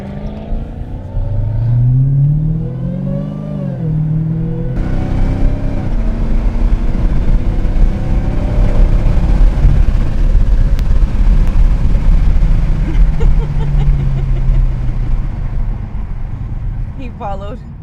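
Dodge Charger Hellcat engine at a gas station, a loud steady rumble with rising and falling revs throughout, mixed with nearby voices.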